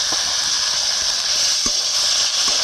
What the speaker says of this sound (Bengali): মোচাটাকে এবার দিয়ে এই ভালো করে নেড়ে দিতে হবে